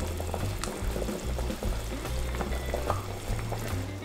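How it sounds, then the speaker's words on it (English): Korean beef short rib soup with radish coming back to a boil in a pot, a steady bubbling and hissing roll with low rumbling underneath, close and continuous without talk. "Now we want to bring it to a boil again"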